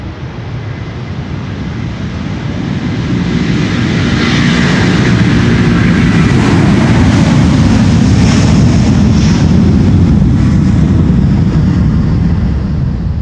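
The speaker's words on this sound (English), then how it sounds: "This is Delta Airlines Flight 135 to Detroit, Michigan" A Delta Air Lines Airbus A330-300 taking off from Schiphol's Polderbaan runway 36L, a loud sustained jet engine roar building over several seconds then holding steady and rumbling, no voices.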